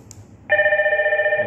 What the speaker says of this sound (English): it's ringing on the room number